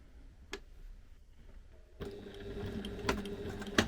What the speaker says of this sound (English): we'll fold over our last pocket and we sew up the middle